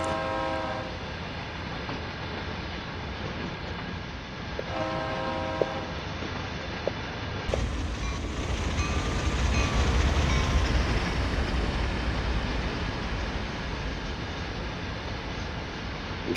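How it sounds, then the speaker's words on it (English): A train rumbles steadily past with rhythmic clatter, and a horn sounds briefly early on before the roar grows louder and fuller. "the train is relatively shorter because we're putting the last three cars"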